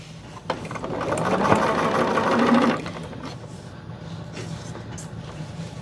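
A sewing machine stitching a fabric picnic caddy, a fast rapid-fire mechanical whir that swells louder for about two seconds, then drops back to a quieter idle hum.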